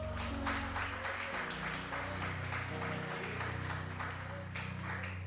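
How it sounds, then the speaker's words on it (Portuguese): A church congregation claps over sustained, droning music, the applause steady and moderately loud throughout. "Você pode dar uma salva de palmas para Jesus?"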